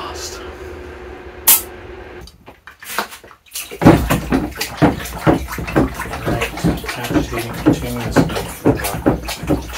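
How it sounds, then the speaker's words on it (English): A sealed film developing tank holding liquid is agitated by hand, producing a steady run of rhythmic sloshing and clunking bursts that follow a few clicks and knocks from capping the tank. "stick the film in pre-bath, get it in here, cap it, and start agitating"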